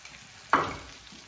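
Tomatoes frying with ginger garlic paste in a pan, a sudden loud sizzle bursting up as they hit the hot oil, then settling into a steady crackle.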